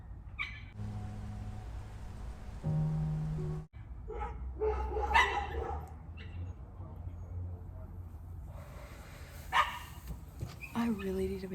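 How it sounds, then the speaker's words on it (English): A neighbours' dog barks and yelps in short bursts at middle distance, trying to jump out of a window, with people talking over and between the calls. "That's their dog right now."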